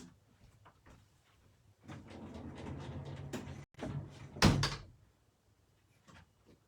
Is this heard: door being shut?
yes